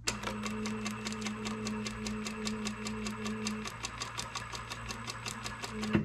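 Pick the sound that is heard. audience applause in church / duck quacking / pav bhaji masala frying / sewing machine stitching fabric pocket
sewing machine stitching fabric pocket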